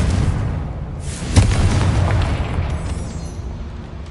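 A Confringo blasting spell goes off in the Hogwarts Legacy video game, a loud booming explosion with a sharp burst followed by a long rumbling decay.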